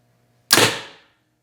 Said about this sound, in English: Let's shoot it through a chronograph and see what we get.